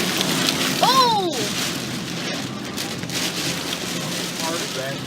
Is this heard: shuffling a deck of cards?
no